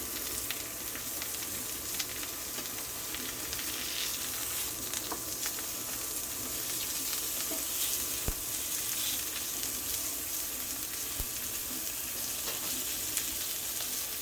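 Sirloin steaks sear in a pan after being flipped, giving a steady dense sizzle with scattered crackles and pops, continuous and moderately loud with no talking.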